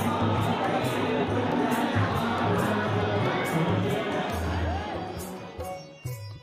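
A large, dense crowd of pilgrims at Vaishno Devi fills the space with continuous murmuring chatter and scattered shouts, steady and close, thinning slightly near the end.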